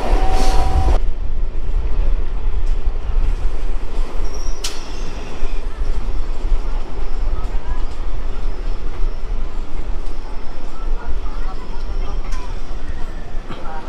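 A Bombardier-built suburban electric train rake runs from Sealdah toward Dum Dum Cantonment with a continuous loud rumble and wheel noise, a few sharp clicks and squeals, and a voice talking early on.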